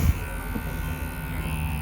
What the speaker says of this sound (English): And my shaver's nearly out of power.